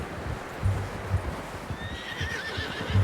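A horse in Red Dead Redemption 2 whinnies with a rising, wavering neigh, accompanied by a few soft hoof clops and faint ambient noise, heard close and alone without speech.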